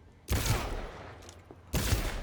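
Two sharp pistol gunshots in the Cyberpunk video game, spaced about a second and a half apart, each a loud crack with a short decaying tail and no talking over them.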